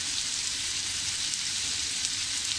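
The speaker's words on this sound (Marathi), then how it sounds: "व्यवस्थित आपल्याला असं छान असं गुलाबी रंग येईपर्यंत परतून घ्यायचं आहे." Onion, garlic and ginger sautéing in a pan for a paneer masala, producing a steady, even sizzle at moderate loudness with no pauses.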